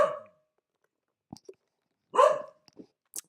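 A dog barks twice indoors, each a short sharp bark close by with about two seconds of quiet between, plus a few faint clicks and small noises.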